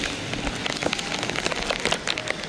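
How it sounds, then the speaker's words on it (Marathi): Heavy rain pours beside the Panvel highway during a tree-planting event, a dense patter of drops striking surfaces close by, continuous and fairly loud. "खूप पाऊस धो पडत आहे"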